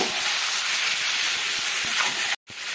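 Chicken sizzling and frying in a pan over a high gas flame while being stirred, a loud steady hiss with faint scraping, cutting out briefly near the end.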